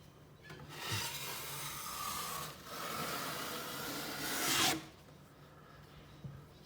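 A wide plaster scraper drags across a gyprock wall in long, steady rasping strokes, close and moderately loud, building to a harsher stroke before ending, followed by a quiet pause and a small tap.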